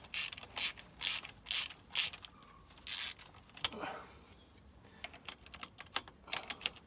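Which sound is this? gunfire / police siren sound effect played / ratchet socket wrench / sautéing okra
ratchet socket wrench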